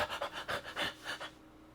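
A voice imitates frightened, panicked panting, giving about six quick, breathy in-and-out gasps close to the microphone that trail off into quiet.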